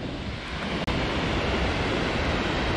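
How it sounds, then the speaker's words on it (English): A waterfall roars as a dense, steady wash of rushing water on a mountain trail. It is close and continuous, broken only by one brief dropout, with no voices. "So that's the waterfall"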